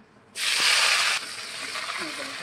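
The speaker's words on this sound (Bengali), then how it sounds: "আম্মু হচ্ছে হলুদ লবণকে ঝাঁকানা করে তেলের উপরে ছেড়ে দেবে" Turmeric and salt hit hot oil with a sudden loud hissing sizzle that holds steady for under a second, then settles into a quieter continuous frying hiss.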